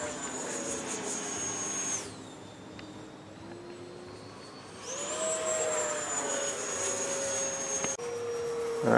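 An E-flite Viper RC jet flies past with a high ducted-fan whine that rises, fades as it moves away, then swells again on a second pass, heard from a moderate distance.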